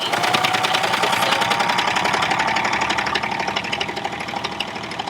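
A serger sewing machine stitching fabric runs in a fast, steady mechanical whir with rapid rhythmic clatter, close and continuous, easing slightly toward the end with no voices.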